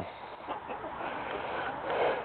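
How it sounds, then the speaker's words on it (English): Chickens cluck softly and mutter close by, a low busy chatter of several birds with faint scratching and pecking underneath. "so we're giving the chickens the leftover parts on the tomatoes"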